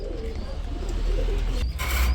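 Pigeons coo softly nearby among pairs kept with their young at a pigeon sale, a low murmuring call with faint chirps and a brief rustle near the end.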